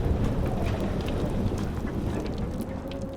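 A thunderstorm in the game Life is Strange Remastered, with steady heavy rain and deep rumbling thunder filling the space, loud and continuous, no voices.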